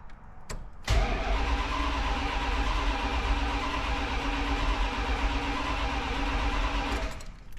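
A 1984 Dodge W150 truck engine cranks briefly and catches, then runs steadily at a loud, even idle for several seconds before cutting off near the end.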